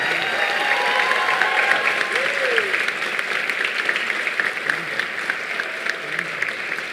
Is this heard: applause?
yes